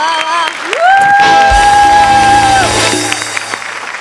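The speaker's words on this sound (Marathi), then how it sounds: "मी उभा राहून एकदा टाळ्या वाजवतो जोरदार" A comedy show audience cheers and applauds, with loud whoops and shouts rising over clapping and crowd noise.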